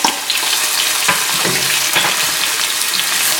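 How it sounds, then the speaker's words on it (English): Sliced onion fries in hot oil left over from frying okra for bhindi masala, giving a loud, continuous close-up sizzle with a few faint stirring knocks. "in the same oil, I'm going to fry the onion"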